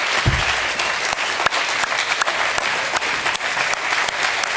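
Audience applause at a Spanish political speech: steady, dense clapping from a crowd close by, filling the whole stretch with little variation in loudness.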